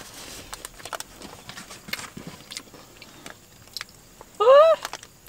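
Crunchy fast-food onion rings are bitten and chewed close to the mic in a quick series of crisp crunches, followed by a short voiced hum near the end.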